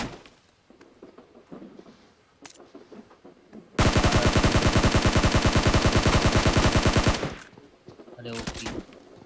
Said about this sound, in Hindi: तेरे पे कोई फायर कर रहा है तो बंद कर देने का फायर करना